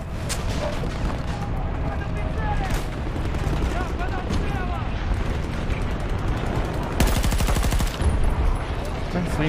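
Heavy gunfire from Battlefield 2042 hammers away in dense bursts and blasts, with a fast, loud rattling stretch near the end, amid constant battle noise and voices.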